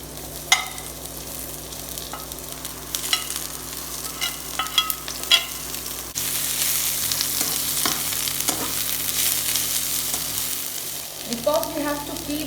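Vegetables for veg spring rolls stir-fry in hot oil, hissing in a steady close sizzle punctuated by scattered scrapes and clinks of stirring, with the frying growing louder and fuller partway through.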